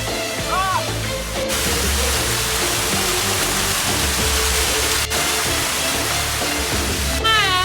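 Continuous hiss and rush of the Arda waterfall in Balangir, a steady broadband roar close by, with a brief faint voice near the start and occasional sharp clicks.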